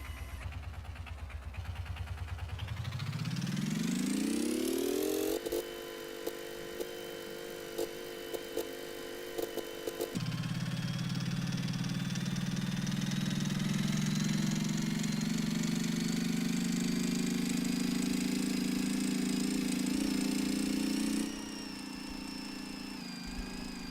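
A motorcycle engine in the building game Gearblocks revs up smoothly from low, then holds a steady buzzing drone with a brief pitch drop partway before settling at a constant idle-like hum.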